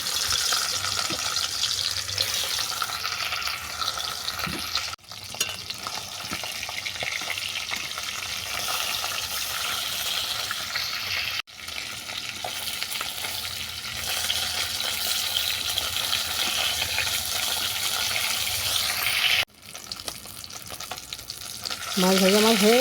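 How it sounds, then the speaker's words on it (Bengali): Pieces of rohu fish frying in hot oil in a home kitchen, a steady loud sizzle and crackle that runs continuously with a few brief gaps, with no talking. "একইভাবে বড়া তেলেতে মাছগুলোকেও আমি ভেজে নেব।"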